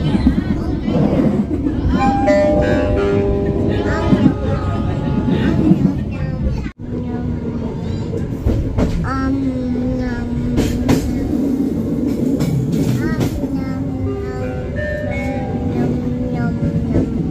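The Jenggala commuter line in Indonesia rolls along with a loud, steady rumble and rhythmic wheel clatter inside the carriage, while voices and an announcement carry over the running noise; a brief dropout interrupts it partway through.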